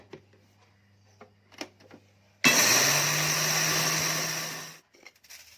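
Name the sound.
electric grinder grinding fennel seeds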